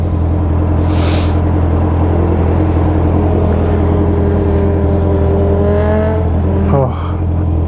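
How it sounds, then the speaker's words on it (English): A Honda CB650R motorcycle at full throttle on a straight road, its engine note climbing steadily in pitch through a long pull before a sharp shift, loud and close under heavy wind rush, with no talking. "see if I can give it a little bit of a rip on the straight of this road, so you guys can hear what the bike really sounds like when it's really opened up"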